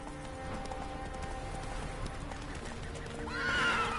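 Roach, Geralt's horse in The Witcher 3, neighs loudly near the end over steady galloping hoofbeats and game ambience.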